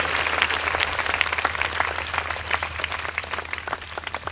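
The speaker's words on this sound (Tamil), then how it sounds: "நல்லா கைதட்டுங்க ஆண்டவருக்கு." A Tamil church congregation claps for the Lord, with a loud, continuous wash of many hands applauding nearby.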